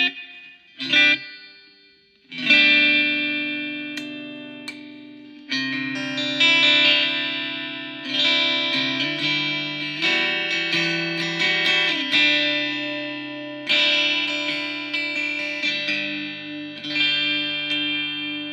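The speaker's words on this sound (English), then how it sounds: "There's a little bit of reverb coming from that little battery-powered Roland back there." An electric guitar played through an ADA MP-1 preamp, with added reverb from a small battery-powered Roland unit: chorused, slightly distorted chords struck one after another and left to ring and decay, with no talking.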